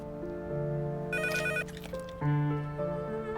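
An indoor telephone rings with a bright electronic ringtone, steady melodic tones repeating without pause and clearly audible, with no voices over it.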